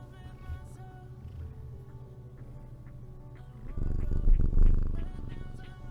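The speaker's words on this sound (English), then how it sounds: "You can hear him purring." A pet cat purring close by, a low steady rumble that swells louder toward the end, with faint background sounds and no talk.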